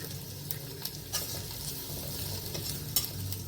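Ginger and green chili sizzle gently in a pan as a spoon stirs them, with soft scraping clicks over a low, quiet frying hiss.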